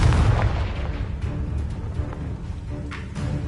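Confringo explosive spell in Hogwarts Legacy: a booming burst followed by rumbling, crackling blasts and scattered pops, loud and continuous with deep low-end weight.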